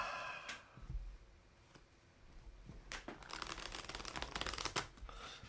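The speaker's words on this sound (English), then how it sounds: "I'm glad I taught myself how to do the shuffle like this." Quick riffling bursts of playing cards being shuffled, crisp and close, with a dense flurry of flicks in the second half.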